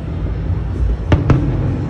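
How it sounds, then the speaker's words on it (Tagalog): Fireworks at Ayala Center in Cebu during the Sinulog 2025 festival: two sharp bangs burst in quick succession over a steady outdoor crowd rumble. "Fireworks sa Ayala Center, Cebu."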